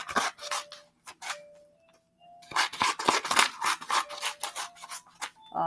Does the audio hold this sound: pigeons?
no